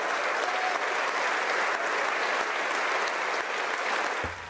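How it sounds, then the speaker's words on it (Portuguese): Sustained loud standing ovation from a large crowd in the Canadian Parliament, dense and even clapping that continues throughout before tapering slightly at the end. "Foram vários minutos de aplausos em pé"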